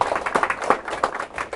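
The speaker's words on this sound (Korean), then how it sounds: "나는 태어나서 이렇게 박수 소리가 약한 건 처음 봤어요." Thin, sparse clapping from the audience at a Saturday lecture hall talk, a handful of uneven claps that stay light and never swell into full applause.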